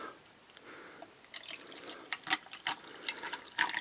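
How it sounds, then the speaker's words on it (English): Milk tea is poured over ice in a glass, giving a soft trickling splash with small liquid clinks and drips that grow a little louder as the glass fills. "Let's pour it over our ice,"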